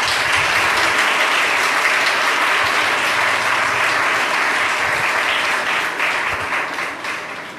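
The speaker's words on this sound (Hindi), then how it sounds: "आइए हम खुदावंद के लिए तालियां बजाएं." A church congregation claps for the Lord during an Urdu sermon, a dense, loud, continuous wash of applause that holds steady before fading slightly at the end.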